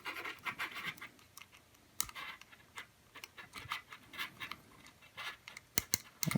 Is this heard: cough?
no